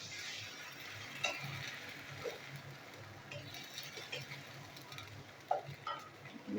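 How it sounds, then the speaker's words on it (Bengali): Ginger garlic paste fries in a pan with a faint steady sizzle and occasional soft ticks and stirring scrapes, quiet and close, with no speech. "আদা রসুনের পেস্ট আমি ভাজবো।"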